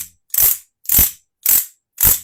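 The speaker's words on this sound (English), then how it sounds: "Ooh, the cocorico. Some people call this a clatterpillar." A clatterpillar, also called a cocorico, a nonpitched percussion instrument, is shaken in four evenly spaced rattling bursts. Each burst is a dry, bright clatter of many small wooden clicks, close and fairly loud, with silence between.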